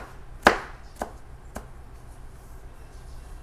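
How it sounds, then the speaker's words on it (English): A knife chops cilantro on a cutting board for shrimp ceviche: three distinct, well-spaced thuds, the first the loudest, then quiet. "Chop, chop, chop, chop."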